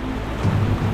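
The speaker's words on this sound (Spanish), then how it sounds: "Muy fuerte la tormenta" A strong thunderstorm over the sea near Peanut Island, with loud, close rain hissing and a deep rumble of thunder swelling midway.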